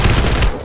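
Rapid burst of gunfire in the shooter game Free Fire, a loud, dense rattle of shots packed tightly together before cutting off abruptly.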